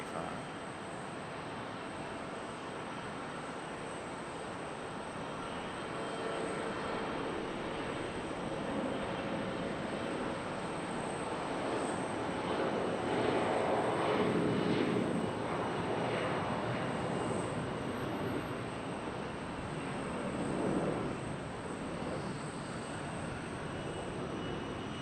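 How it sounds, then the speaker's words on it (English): Delta Embraer E175 regional jet at Charlotte Douglas airport, a steady broadband jet roar that swells toward the middle and again briefly near the end, with airport background hum throughout. "Here comes our Delta. Little E175."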